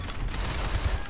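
Gunfire in the video game Shadow Complex, a dense, continuous rattle of rapid shots like a machine-gun burst, loud and close throughout with no pauses.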